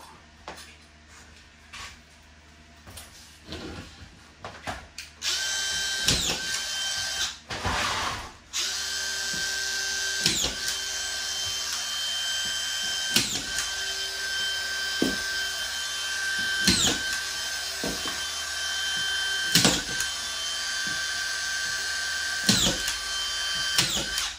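A DeWalt DCF620 drywall screw gun drives screws into sheetrock, with repeated whirring bursts and sharp clicks over a steady motor whine, close and loud, with no speech.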